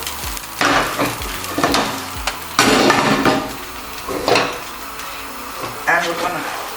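Courgette, leeks and onions fry over a big fire, a hissing sizzle broken by metallic clanks and scrapes of stirring in the pan, loud and close, with some brief speech.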